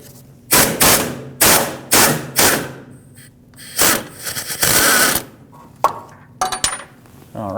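A ratchet with an extension and swivel works a bolt loose on the steering shaft of a 2007-2017 Ford Expedition, giving a series of short, sharp clicking bursts separated by brief pauses.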